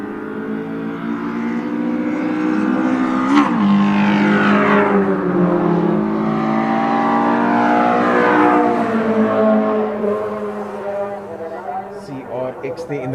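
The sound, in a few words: Honda CRX drag racing a quarter-mile run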